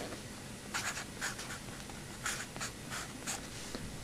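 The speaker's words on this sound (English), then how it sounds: "let me write that down actually" Writing on a board during a chemistry lecture: a run of short scratchy strokes in quick bursts, fairly close and clear over a faint room hiss, with no talking.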